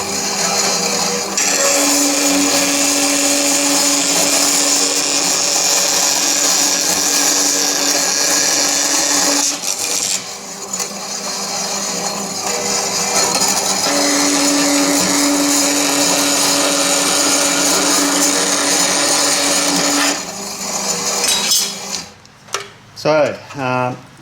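A wood bandsaw converted for metal cutting saws through 3mm thick aluminium, a loud continuous grinding whine that runs for about nine seconds, breaks briefly, resumes for another stretch, then stops with a few clattering knocks.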